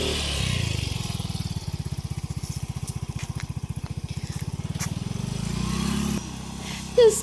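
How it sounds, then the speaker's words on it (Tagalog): A worn-out motorcycle engine chugs with a loud, rapid, rough pulsing beat, close by, then drops to a lower running tone near the end. "Losyang na yung motor."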